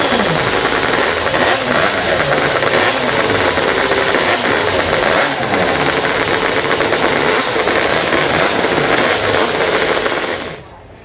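Hot saws revving on stage during warm-up at a fair lumberjack competition, some rated at 50 to 60 horsepower, a continuous loud, raw, crackling engine roar that holds steady for about ten seconds and then cuts off abruptly.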